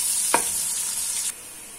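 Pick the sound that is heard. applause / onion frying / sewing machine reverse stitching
onion frying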